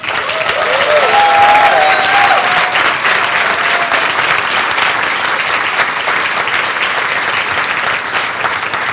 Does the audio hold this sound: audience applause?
yes